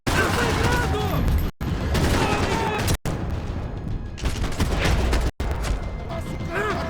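Bursts of gunfire in the video game Max Payne 3, with rapid shots clustered between brief silent cuts, mixed with shouting voices.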